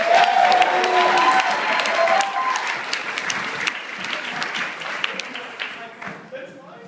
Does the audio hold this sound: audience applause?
yes